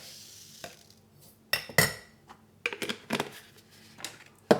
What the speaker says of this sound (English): Then I put just a sprinkle of the cinnamon, give that a stir.